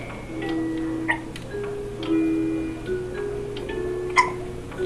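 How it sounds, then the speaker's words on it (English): A baby in a swing hiccups in small repeated bursts over a steady low hum and faint tonal background sounds, the hiccups close and fairly soft. "He's got the hiccups now."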